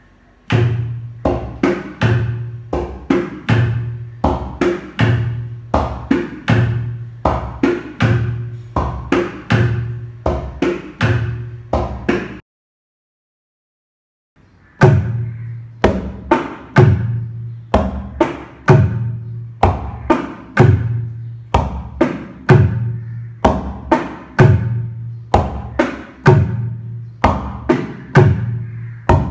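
Mridangam drum played alone in a steady dum kitta pattern, crisp repeated strokes with resonant low tones, loud and close, with a brief silent gap midway before the rhythm resumes.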